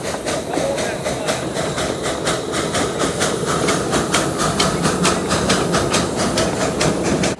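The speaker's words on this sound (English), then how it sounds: "I was able to catch number 1 pulling into the station." Miniature gauge steam train number 1 at the Hesston Steam and Power Show pulls into the station, with loud, steady rolling rumble and regular rhythmic clicks of wheels or exhaust beats close by.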